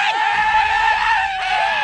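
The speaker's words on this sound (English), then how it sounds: "Instead of real gunshots, you get screams." A Borderlands video game gun fires screams instead of gunshots: short, shrill screams repeat rapidly, each with a sharp downward swoop, loud and close, with brief gaps between bursts.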